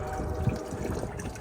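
Water pours and drains out of the air cleaner box on a Chieftain tank's engine deck, a steady splashing trickle at close range with a brief louder gush partway through.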